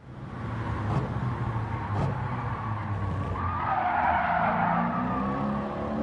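Tires skidding and squealing under heavy braking as a Ford Mustang slows at Laguna Seca in the racing video game Gran Turismo 7, a loud, sustained screech over engine rumble with no talk.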